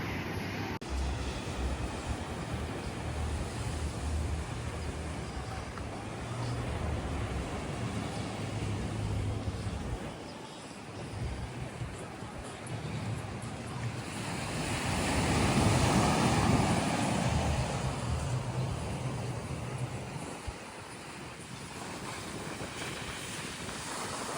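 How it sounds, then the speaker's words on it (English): Ocean waves break on a Hawaiian beach under steady wind, a continuous wash of surf with one louder swell building in the middle before easing, and wind rumbling against the microphone throughout. "I'm coming up on the beach, so let me get you some footage here."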